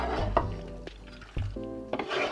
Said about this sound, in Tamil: இப்போ இதை வந்து நல்லா மிக்ஸ் பண்ணுவோம்